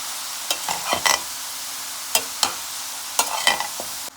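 Gingee and salted fish stirred in a pan, a soft background sizzle broken by sharp scraping and clattering strokes of the spoon at irregular intervals, close and alone without speech.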